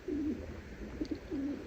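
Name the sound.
racing pigeons cooing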